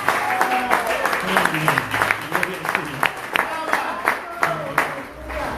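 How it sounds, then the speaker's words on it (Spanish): A church congregation at a religious gathering claps and applauds, loose uneven handclaps with voices speaking and calling out among them, moderately close. "¿Usted quiere darle un aplauso al Señor por eso?"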